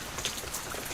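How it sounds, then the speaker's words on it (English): Light rain patters steadily as a soft, even hiss of scattered drops, faint and alone with no voices. "It's just rain."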